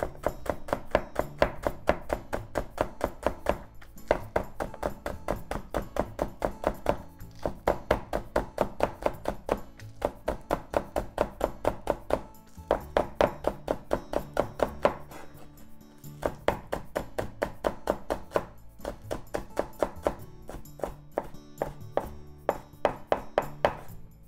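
A knife slicing garnish thinly on a cutting board, with steady rapid taps in bursts separated by short pauses, close and clear, with no talking.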